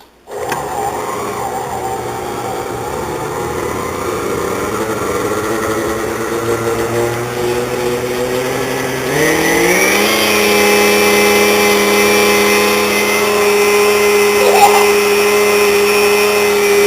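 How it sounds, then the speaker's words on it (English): Kitchen blender whirring steadily as it mixes snow smoothies, a continuous motor drone that shifts up in pitch partway through, loud and close with no talk over it. "On the blender."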